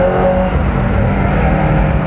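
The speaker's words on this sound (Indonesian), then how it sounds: "ini masih gigi 4 dan gua nggak ngabisin full gasnya gitu" A car engine pulling steadily in fourth gear at part throttle, a loud, continuous close-up drone without obvious revving peaks.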